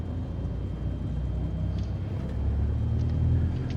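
A Cessna 162 light aircraft taxiing: a steady, close engine drone and rumble holds throughout, swelling slightly toward the end.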